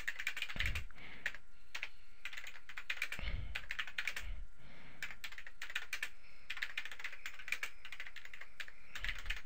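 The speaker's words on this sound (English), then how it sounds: "you can just start typing" Steady typing on a computer keyboard while composing a WordPress post, with rapid key clicks in bursts and brief pauses, close and clear with no talking.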